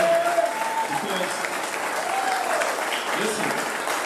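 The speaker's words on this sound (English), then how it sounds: "Can we give a round of applause to our brother?" Audience applause at a memorial celebration of life. A steady wash of clapping runs throughout, with faint voices and a few calls rising above it.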